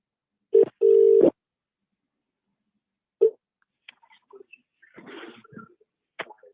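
Telephone tones for a fan phone-in show: a short beep followed by a longer steady tone, another brief beep later, then scattered faint clicks and noisy line sounds.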